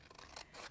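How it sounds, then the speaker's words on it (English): Scissors trimming excess card from a floating-frame craft piece, two quick soft snipping cuts close by and faint, with no talking. "we're going to flip the card and trim off the excess"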